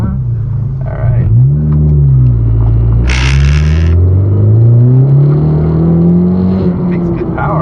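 A 2017 Honda Civic Si accelerates from a stop, its engine note rising steadily through the revs with a brief shift, heard from inside the cabin while people talk over it.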